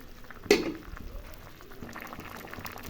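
Thin rohu fish curry broth boiling in a pot, a soft continuous bubbling after a single sharp clatter near the start, faint and close with no voices.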